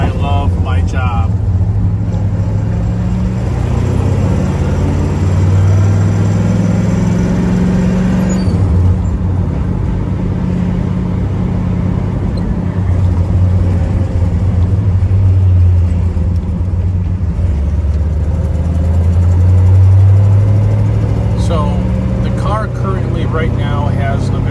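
A 1969 Buick GS400 Stage 1 convertible with a four-speed and a slight exhaust leak rumbles steadily on the move, its low engine drone rising and falling with shifts, while a voice talks over it.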